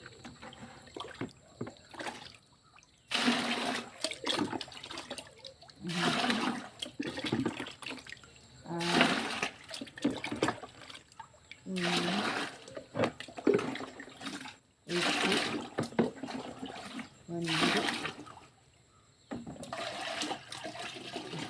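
Water pours in repeated loud gushing bursts, roughly every two to three seconds, while being added to a container to dilute a plant spray for tomato and okra plants, with quieter gaps of dripping and handling between pours.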